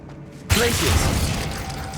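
A Glacius ice spell cast in Hogwarts Legacy gives a sudden crackling, shattering burst that starts about halfway through, with mechanical creaks and chimes, then a sustained icy hiss that slowly fades.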